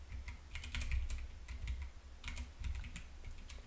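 Rapid, uneven clicking of fingers typing on a computer keyboard during a coding session, close and fairly quiet, with bursts of keystrokes and no talk.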